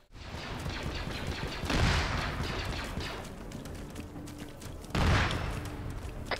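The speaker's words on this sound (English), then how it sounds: "Enemy tank to the east is still up, still blasting us!" Tank cannon and gunfire in an Arma 3 Star Wars mod battle, with sustained rattling fire and two heavy booming blasts spaced a few seconds apart, moderately loud and without speech.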